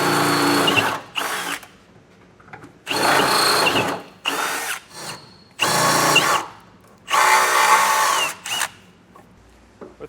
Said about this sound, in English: I got a 1/2-inch drill bit, and I'm actually going to drill up through the bottom here